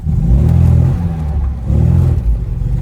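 A 1974 MG MGB Roadster engine revs up as the clutch grabs, a loud, close mid-range drone surging twice over a few seconds with no voices.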